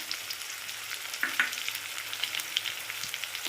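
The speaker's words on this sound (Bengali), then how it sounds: "এটা আমি ভালো করে কষিয়ে নেব" Cumin, red chilli powder and coriander powder frying in a pan over low gas, a steady close sizzle with a few sharp crackles and scrapes of stirring; no voices.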